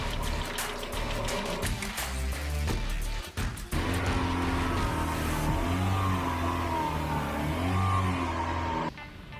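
A Mazda Miata engine runs again after a fuel pump repair, a steady close-up drone with low throbbing harmonics and a few rises in pitch like light revving, cutting off near the end with no one talking.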